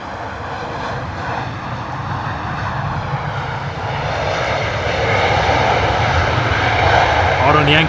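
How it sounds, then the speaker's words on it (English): An Embraer jet lands at London Heathrow in wet, windy weather, its engine roar swelling steadily louder as it nears, with someone talking over the noise. "First Embraer of the day."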